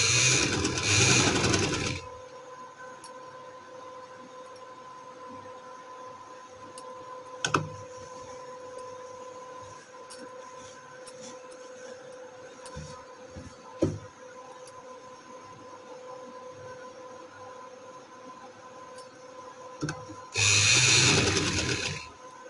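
An electric sewing machine stitching trouser fabric hums steadily with a faint mechanical whir, framed by louder bursts of running at the start and end, with a few light clicks in between.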